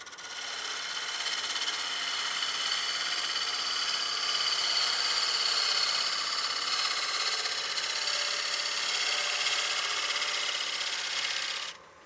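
Wood lathe turning a wooden platter at about 900 RPM, giving a steady broadband whir with a faint high whine throughout, cutting off abruptly at the end.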